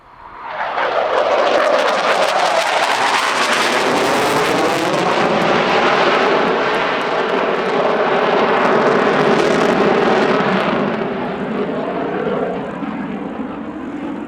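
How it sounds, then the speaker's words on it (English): An RCAF CF-188A Hornet jet roars past during a solo airshow display, a loud, sustained, broadband rumble and whoosh that swells over several seconds and slowly fades as the jet moves away. "The final RCAF solo display comes from the CF-188A Hornet"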